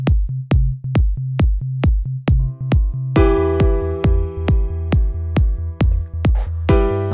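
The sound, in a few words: bass line following chord root notes over kick drum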